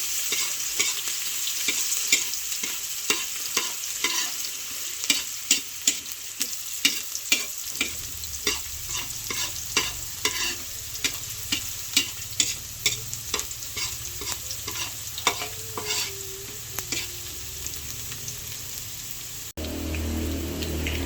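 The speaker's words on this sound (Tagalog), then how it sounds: "Ilalagay na po natin yung ricado na bawang at sibuyas. Bali, ginigisa ko na po yung bawang at sibuyas." Garlic and onion sauté in hot oil in a wok, a constant sizzle under a quick, regular series of scraping stirs from a utensil, close and clear, with no talk.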